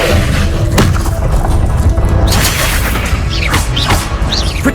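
A fire spell from Hogwarts Legacy hits with a loud rumbling burst, then heavy thuds and crackling whooshes play through a dense, continuous roar.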